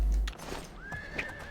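A horse in Oblivion lets out a clear whinny after a heavy thud, with soft hoof clops and faint game ambience around it.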